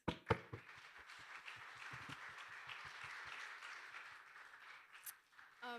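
A church congregation at an Easter Sunday service claps, opening with a few sharp nearby claps, then settling into a soft, steady patter of many hands that fades toward the end.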